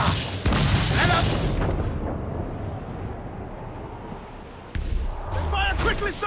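Heavy cannon broadsides boom from a sailing warship in the pirate game Assassin's Creed 4 Black Flag, a loud blast at the start and another near the end, each decaying into rumble, with shouted crew orders over the battle.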